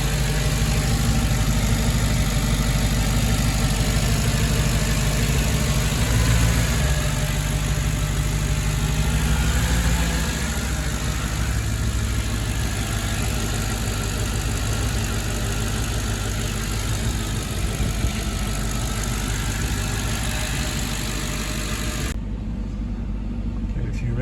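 A Mercedes C55 AMG V8 engine with a custom cold air intake idles steadily after a cold start, with a deep continuous rumble heard up close and holding constant until it cuts off near the end.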